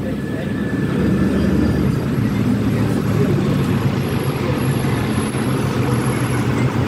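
An Alexander Dennis Enviro400 Hybrid double-decker bus in London rail replacement service pulls away with a loud, steady low engine rumble close by. A voice talks over the sound.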